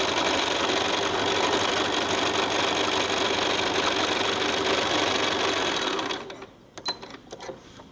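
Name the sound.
sewing machine stitching quilt half square triangle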